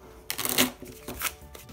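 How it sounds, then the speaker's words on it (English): A deck of game cards for a medical-themed card game is shuffled in one quick riffle, a short burst of flapping card noise followed by a few lighter taps as the deck settles. "we're gonna shuffle our antibiotic deck"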